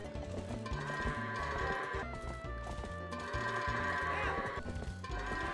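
Goats bleat in the Zelda: Twilight Princess game, with layered bleats and clip-clopping hooves over an ongoing in-game soundscape at a moderate, even level.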